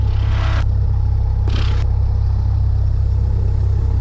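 A small single-engine airplane taxis toward runway 32, its engine holding a loud, steady low drone close by, with brief hissy bursts over the top and no talk.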